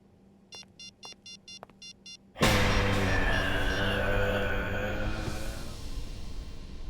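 Six short, evenly spaced electronic dial tones beep in quick succession, then a loud rushing noise abruptly takes over and slowly fades.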